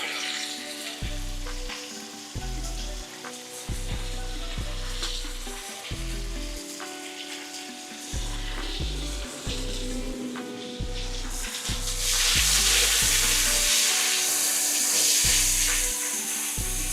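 Tomato paste sizzles in a pot of fragrant garlic for braised short ribs, a loud continuous fry with repeated scraping stirs, swelling into a brighter, hissier sizzle near the end, close up with no voices.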